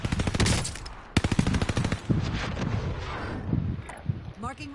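Rapid automatic gunfire in a multiplayer shooter, loud bursts of rattling shots followed by scattered single shots, with players talking over the action.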